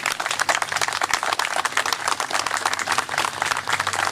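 Crowd applause at an outdoor Memorial Day ceremony and parade in Dunkirk, NY, honoring a Korean War veteran; dense, steady clapping from many hands continues throughout without any speech.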